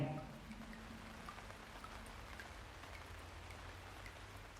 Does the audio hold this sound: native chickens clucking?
no